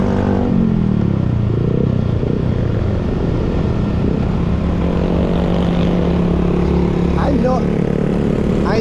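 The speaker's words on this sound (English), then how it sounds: "these motorbikes, they make the muffler loud on the motorbikes here" Motorbikes with loud aftermarket mufflers on a provincial road in the Philippines, a constant close engine roar with rising revs near the end, heard from a riding bike with speech mixed in.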